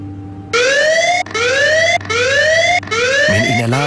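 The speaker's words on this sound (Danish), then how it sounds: "Men en alarm bryder stilheden." An alarm sounds aboard the Danish navy ship Absalon as four loud rising electronic whoops repeat in steady succession, close and unaccompanied, with a brief different tone cutting in at the end.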